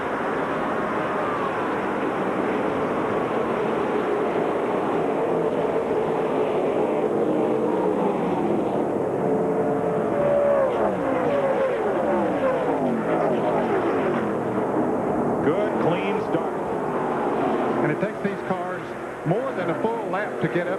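A pack of NASCAR Busch Series race cars roaring up to speed under green flag at Daytona in the Napa 300, a dense, steady engine din with an announcer talking over it.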